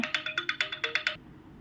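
A mobile phone ringtone plays during a crochet lesson: about ten quick, bright electronic beeps in a steady pulsing rhythm, close and clear, then it stops abruptly.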